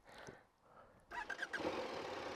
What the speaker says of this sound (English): Okay, and that starts the bike.